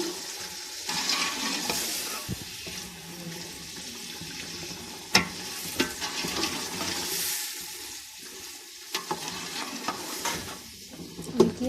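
Chicken pieces being stir-fried in a pan for biryani, giving a steady moderate sizzle with occasional stirring scrapes and clatters, with no talking.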